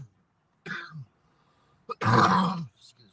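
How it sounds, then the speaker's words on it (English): A dog's rough throat-clearing cough breaks the quiet, then a heavier, harsher cough follows a second later, with faint grunts trailing off. "Nah, that's his regular cough"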